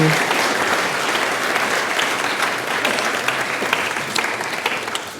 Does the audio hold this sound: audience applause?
yes